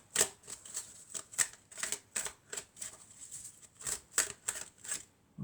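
Tarot cards are shuffled in a quick series of soft, papery riffles and taps, about a dozen short bursts at an uneven rhythm, close by and fairly quiet.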